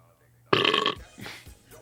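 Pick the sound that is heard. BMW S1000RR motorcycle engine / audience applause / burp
burp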